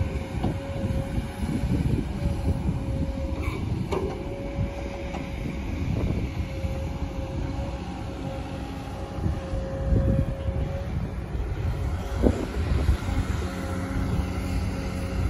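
XCMG excavator engine roaring at a dig site while slinging soil, a loud continuous drone with rumble and a steady whine, heard alone without talk.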